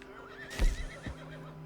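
Horse neighs at a stable in the video game Red Dead Redemption 2, a single loud whinny with a sharp burst and short trailing nicker, heard alone with a faint steady background hum.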